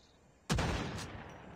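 A single loud MK2 carbine rifle gunshot from the Call of Duty Mobile video game, a sharp blast followed by a sustained echoing tail, with no talk.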